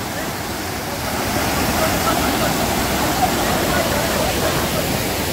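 A stream on the Nageshwar trek near Chipalun rushes steadily, a close, loud, continuous wash of flowing water with no break.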